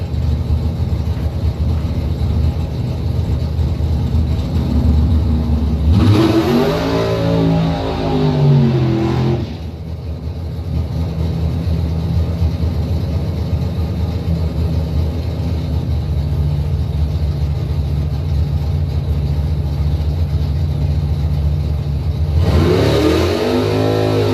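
Drag race cars at a bracket points event idle with a steady engine rumble, then two sharp revving bursts rise and fall, one near six seconds and another near the end, loud and close with no talk.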